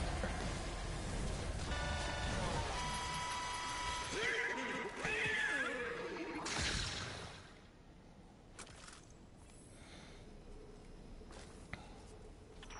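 Horse neighing in the Destiny 2 Dares of Eternity game mode, a loud whinny over game sound and faint voices, fading into quieter ambience after a few seconds.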